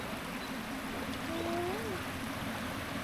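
Floodwater after a storm runs in a continuous, even rush, a steady wash of flowing water at moderate level, with a brief faint tonal sound partway through.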